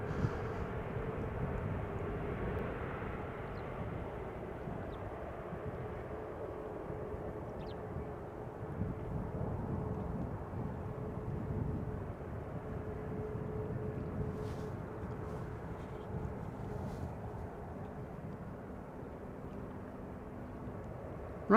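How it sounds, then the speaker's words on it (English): A seven-year-old Boeing 737-800 airliner at Amsterdam Schiphol Airport, its engines a steady, fairly distant rumble that holds evenly throughout with no talking. "737-800, flight time 1 hour 21 minutes, 7-year-old airplane, first flight February 2016"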